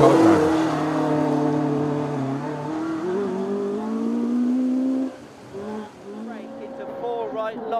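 Engine of a historic rally car driven flat out on a forest stage, loud rising revs heard from inside the cockpit with gear changes and a sudden drop and pickup, while a voice talks over it.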